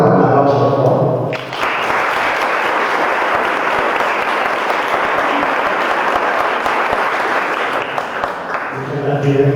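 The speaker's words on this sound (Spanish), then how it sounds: "Un aplauso, por favor." An audience at a lecture applauds a speaker, with dense, loud, sustained clapping that starts after a brief moment of voice and carries on for several seconds.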